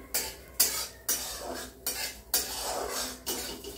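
Urad dal dry-roasted in a pan and stirred, a rhythmic series of about eight scraping, rattling sweeps of a utensil against metal, close and fairly loud with no talk.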